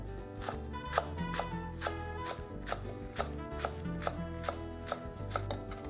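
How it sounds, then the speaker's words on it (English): Knife chopping chives, about half a cup, on a board: a quick, steady run of close crisp taps, roughly two per second, with no talk. "I'm going to start with some chives, about a half a cup."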